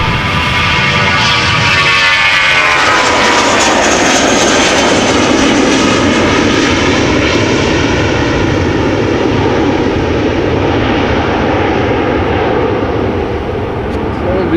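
A jet airliner departing Amsterdam Schiphol Airport roars loud and close, a broad steady rumble with a rising whine early on that stays powerful throughout as the aircraft climbs away, with voices talking over it.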